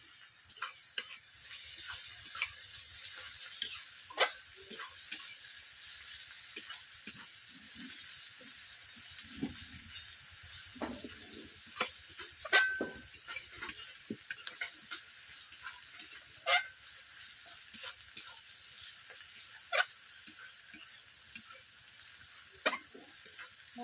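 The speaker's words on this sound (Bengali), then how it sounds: "আদা রসুন পেঁয়াজ একই সঙ্গে দিয়ে দিয়েছি, ভাজা ভাজা হয়ে গেছে" Ginger-garlic paste and onions fry together in a pan for a village-style egg curry, giving a steady quiet sizzle with scattered crackles and spoon scrapes throughout, no voices.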